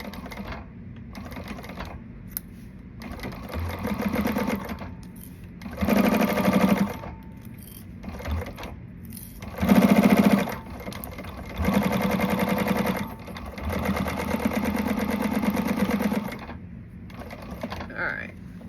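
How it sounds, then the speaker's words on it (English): A sewing machine stitches the side seam of a garment, running in loud bursts of rapid mechanical whirring separated by short pauses, close up and with no talking. "So I'm going to go ahead and sew on my other side."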